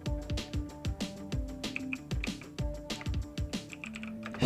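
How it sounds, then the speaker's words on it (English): Fingers type on a computer keyboard in a steady, close run of clicky keystrokes, with short pauses between bursts and no speech over it. "I'll type here"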